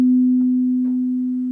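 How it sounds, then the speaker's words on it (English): A tuning fork weighted with a blob of clay, leaving it out of tune, rings a steady pure tone that slowly fades, with faint soft noises behind it. "this tuning fork has a blob of clay on it. So it's out of tune."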